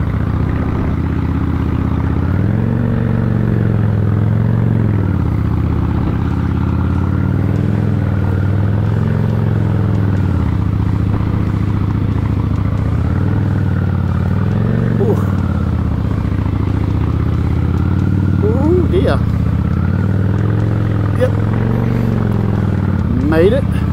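A Honda 750 motorcycle climbs a twisty hill, its medium engine droning steadily and rising and falling with each bend, loud and close, with a rider's voice over it at times.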